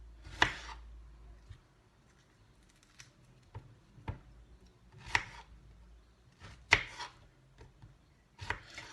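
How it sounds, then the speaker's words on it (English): A knife chops fresh strawberries into chunks on a board, sharp close cuts coming in irregular bursts with quiet gaps between them. "I'm gonna cut the strawberry into chunks"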